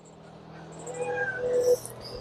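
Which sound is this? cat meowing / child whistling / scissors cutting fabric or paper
cat meowing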